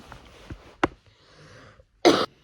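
A few quiet, muffled coughs followed by one louder, harsher cough near the end, nearby with no speech.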